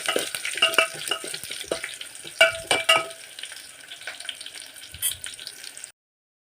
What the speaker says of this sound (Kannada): ನೋಡಿ ಈ ಥರ ಗೋಲ್ಡನ್ ಬ್ರೌನ್ ಆಗೋ ತನಕ ಫ್ರೈ ಮಾಡ್ಕೊಂಡಿದ್ದೀನಿ.